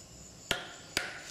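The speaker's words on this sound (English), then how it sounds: "Here I'm cutting the stem of the palm frond to get the main shaft for the spindle" Two sharp cuts through a palm frond stem, crisp snapping chops about half a second apart, close and clear against quiet outdoor background.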